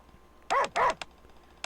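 A dog named Volt gives two quick, sharp barks close by, followed by a couple of faint clicks.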